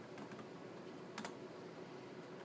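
Faint, sparse clicks of keys being typed on a computer keyboard, a few quick strokes at the start and a short cluster later over a steady low hiss.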